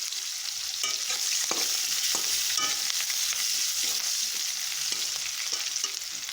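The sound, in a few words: stirring onions frying in a pan for fish curry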